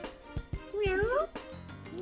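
A cat in the game Trails in the Sky gives a single drawn-out, rising and falling meow, with short percussive clicks before and after it.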